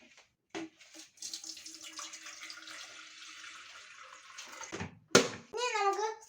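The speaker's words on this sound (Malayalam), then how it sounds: "ഒരു ഗ്ലാസ് വെള്ളം ഒഴിക്കാം." A glass of water is poured into an electric kettle, a close trickling, splashing pour of a few seconds that ends abruptly, followed by a brief voice.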